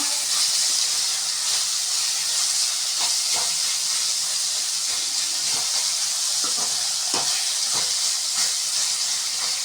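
Curry leaves and coriander sautéing for a fish kulambu, a loud, steady, hissing sizzle throughout with soft scraping stir strokes underneath; no voices.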